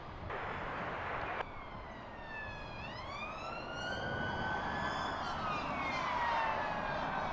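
Emergency sirens at Heathrow Airport wail and sweep up and down in pitch, rising over a steady roar of distant traffic or engine noise.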